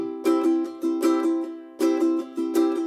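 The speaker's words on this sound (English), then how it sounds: "the third and final strumming pattern we're going to use is based off of going down" A ukulele is strummed in a down-based pattern with accents on beats 2 and 4, giving bright, clear chord strokes in a steady bouncing rhythm, close and alone.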